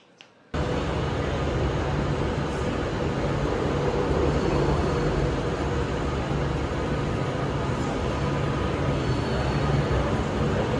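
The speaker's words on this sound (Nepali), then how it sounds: "सो गाइज अब मेरो ट्रेन आएपछि अब म तपाईँलाई देखाउँछु" A train pulls into a station in London, a loud continuous low rumble and rolling rail noise that starts abruptly after a brief quiet moment and holds steady throughout.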